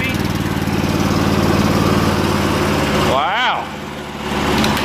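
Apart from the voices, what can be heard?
Cub Cadet 1250 with Predator 420cc engine running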